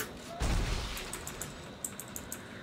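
A rapid-fire weapon in Dead Space 3 opens with one heavy blast, followed by a string of quick, lighter clicking shots in a fast irregular rhythm, fairly quiet overall.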